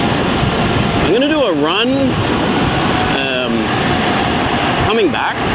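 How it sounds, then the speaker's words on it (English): Strong wind roaring outdoors across the microphone during a fast electric scooter ride, a loud constant rush with a person talking briefly over it. "it's windy"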